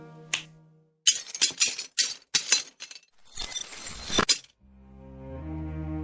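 Broken glass in a display case is magically restored, heard as a loud sequence of tinkling, shattering-like glass clinks and a sweeping crash that gives way to a rising, sustained magical tone.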